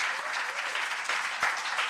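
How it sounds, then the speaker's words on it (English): An audience applauding at a live-streamed event in Jamaica, dense continuous clapping from a crowd, loud and sustained for the whole moment. "can we stand and applaud her for her courage"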